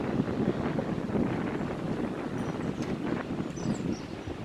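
Strong, gusty wind buffets the microphone outdoors in a constant loud roar with surging swells and no talking.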